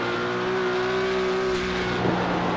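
Porsche Cup race car climbing the hill at Mount Panorama, its engine holding a steady loud drone close by with a brief lift off the throttle and back on near the end.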